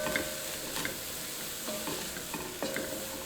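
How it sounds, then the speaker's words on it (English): A spoon stirs spices through lentil chili in a pot over gentle heat, with soft scraping strokes repeating about once a second over a faint, steady sizzle. "Add those all in, give it a little stir."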